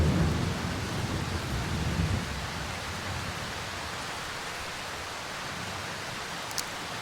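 Thunderstorm in the Darkwood video game: a low rumble of thunder fades out over the first couple of seconds, leaving steady hissing rain, with a faint brief click near the end.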